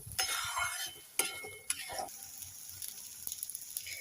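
Garam masala powder being stirred into a pea chop filling in a pan, giving scraping spoon strokes with light clinks and a faint sizzle, quiet and intermittent.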